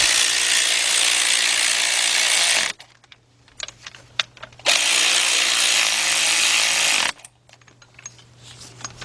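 Ratchet with a 16mm deep socket tightening alternator bracket bolts on a BMW V8, two long steady buzzing ratchet runs with quieter clicking pauses between, close and alone.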